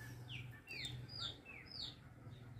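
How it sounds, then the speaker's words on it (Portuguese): Small birds sing in a rural garden among orchids and succulents, giving a few quick, faint chirps and trills over a steady low hum, with no talking. "E lindo também o canto do passarinho."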